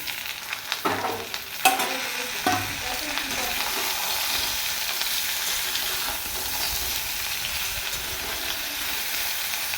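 Pointed gourd and potato pieces fry in a pan with a steady, close sizzle and hiss, with a few clatters of stirring near the start.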